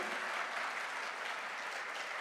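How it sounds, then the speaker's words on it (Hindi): An audience at a direct selling promotion event claps in a steady, dense wash of applause, sounding somewhat distant and even throughout the short stretch. "एक बार जोरदार तालियां होनी चाहिए"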